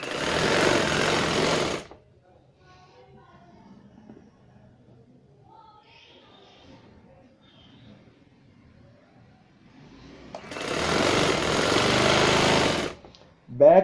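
A sewing machine stitches trousers in two loud, steady runs, one at the start and one near the end, with a long quiet stretch of faint handling noise between them.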